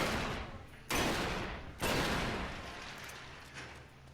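Video game gunshots ring out as about three heavy, booming blasts, each followed by a long echoing decay, close and loud with no speech.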